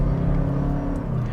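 A 2023 Toyota Crown XLE hybrid sedan accelerates at full throttle with traction control off, a steady loud low engine drone heard from inside the cabin.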